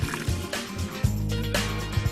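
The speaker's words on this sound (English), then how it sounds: "Pour 2 packets of cleaning powder into the cleaning tank and fill with 400 milliliters of water." Water poured into the cleaning tank of a LeveLuk K8 Kangen water machine, a steady close liquid stream splashing and gurgling with brief bursts before settling into a continuous pour, no talk.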